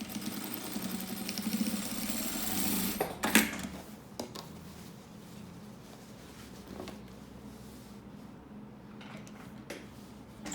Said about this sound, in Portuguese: Eu vou costurar naquele risco que eu fiz de 6 centímetros.